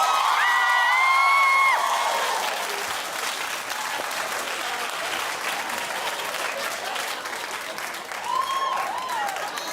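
A studio audience on The Wendy Williams Show applauds in a dense, sustained wash of clapping across the whole stretch, with scattered whoops and cheers rising above it.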